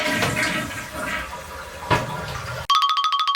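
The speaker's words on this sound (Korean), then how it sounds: "변기 물도 꼭 한번 내려보셔야 합니다" A toilet in a small rented one-room apartment flushes with a loud rushing gush of water that swirls and drains steadily, then cuts off abruptly as a chiming electronic tone takes over.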